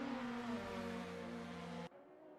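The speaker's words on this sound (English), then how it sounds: "Some great sounding cars as you can hear right now" GT race cars at Fuji during a 200 km GT Asia round in 2021 give a sustained, tonal engine whine that is fairly loud and steady before cutting off abruptly near the end.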